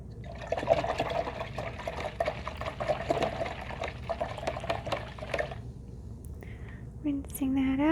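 Paintbrush swished and rinsed in a water cup during an acrylic painting session, a busy close sloshing and clinking for about five seconds before it stops, with faint talk and small sounds afterward.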